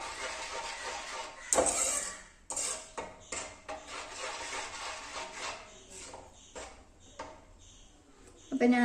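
A spoon stirs fish chilli curry (mackerel) in a metal pan, scraping and clinking in short irregular strokes, close and moderately loud, with a sharper metallic knock near the start and another at the end.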